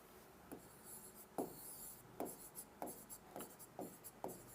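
Pen or chalk writing on a board during a classroom lesson: a series of short scratchy strokes at irregular intervals, fairly close, with no voices.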